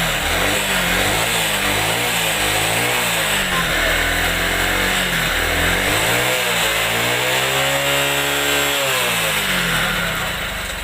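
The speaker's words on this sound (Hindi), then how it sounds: "बिना बैटरी का ये बाइक अभी स्टार्ट है और मैं रेस" A small motorcycle engine, running without a battery, revs up and down in repeated surges, loud and close, with a buzzing, rasping drone throughout.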